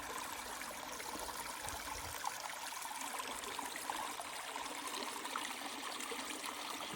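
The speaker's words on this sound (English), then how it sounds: "I love these little streams. How clear that water is." A small, clear stream trickles over a sandy bottom along a woodland trail, a faint, steady babbling flow heard from nearby without interruption.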